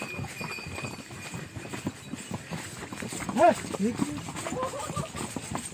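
Horse hooves clip-clop in a steady rhythm on the mountain pilgrimage trail to Vaishno Devi, beneath people talking nearby, with outdoor background noise throughout.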